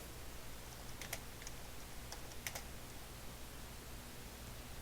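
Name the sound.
typing on a computer keyboard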